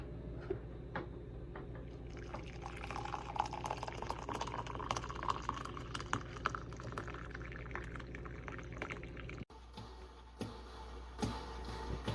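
Hamilton Beach 12 cup electric percolator brewing coffee, with bubbling and gurgling liquid and rhythmic spurts building over several seconds, close and fairly quiet, then briefly cutting off before resuming more softly.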